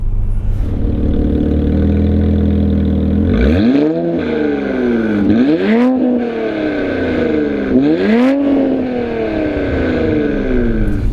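2019 Infiniti Q60 Red Sport 400 with the dealer-installed sport exhaust, idling loudly up close before three sharp revs that climb and fall back, each blip followed by a settling burble.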